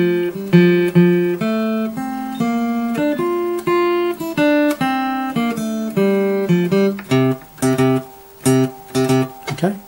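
A guitar plays an intro riff at a normal tempo, a steady run of bright picked melodic notes with no talking, ending in a few short choppy stabs.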